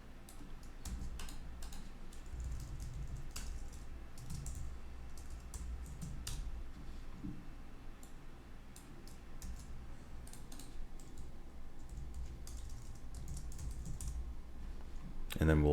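Copy commands being typed on a computer keyboard, quiet irregular clicks of keystrokes in short bursts over a low background hum, with no talking heard.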